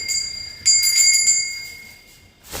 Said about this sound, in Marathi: सर्वात जास्त मला ही घंटी खूप आवडली